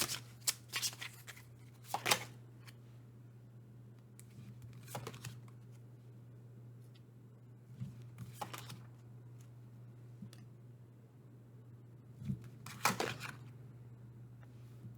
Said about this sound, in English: I'll shuffle again for career and vocation.